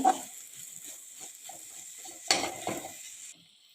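Cluster bean vegetable with chopped coriander sautéing in a pan, with a quiet sizzle, a few faint spatula scrapes and two louder clatters near the end, no talking.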